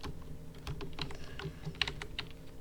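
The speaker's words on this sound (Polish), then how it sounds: "tak walisz w klawiaturę" Rapid, uneven clattering of keys on a computer keyboard, hammered hard and continuously during a Block Dash Endless game, with a dull low hum underneath.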